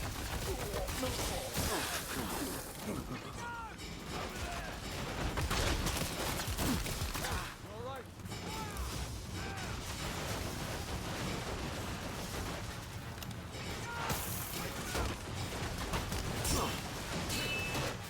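Gunfire in the action game Rise of the Ronin, a dense, continuous battle din of shots and blasts mixed with game sounds, with a voice speaking over it now and then.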